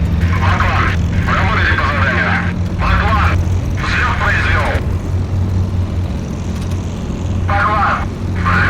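The Spitfire's engine drones steadily while the plane taxis in the IL-2 flight simulator, a loud, continuous hum heard under someone talking throughout.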